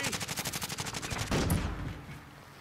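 Rapid automatic gunfire in a Call of Duty Modern Warfare deathmatch, a steady rattling burst of evenly spaced shots that gives way to a louder blast and a fading tail.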